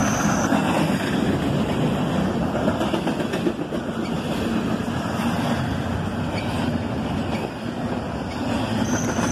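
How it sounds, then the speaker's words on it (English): A CSX intermodal freight train rolls past close by in a loud, continuous roar of wheels on rail, with rhythmic clicking over the joints and occasional high squeals from the wheels. "Intermodal trains, whenever possible, always have priority on CSX's network."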